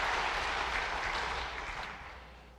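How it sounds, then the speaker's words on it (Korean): A church congregation at a Sunday worship service applauds the choir with dense, steady clapping from many hands, sustained throughout and tapering slightly toward the end, with no talking over it. "한번 박수 한번 해주시기 바랍니다"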